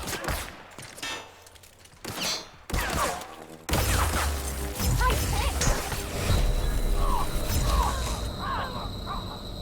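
Shotgun gunfire in The Outer Worlds video game, several loud blasts and sharp bursts early on, followed by dense continuous combat noise and clatter.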